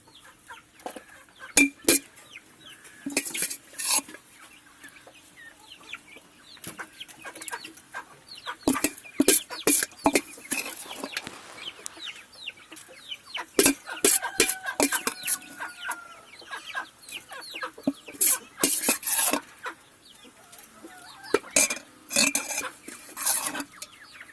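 Country chickens cluck and squawk while feeding on a farm, with frequent close, irregular calls and short bursts of clucking over a quiet background, plus a faint clink of dishes.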